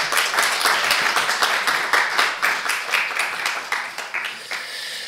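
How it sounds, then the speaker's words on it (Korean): A church congregation claps during a family worship service, giving a lively round of applause that sounds fairly close and fades slightly toward the end. "큰 박수로 맞이해 주시기 바랍니다."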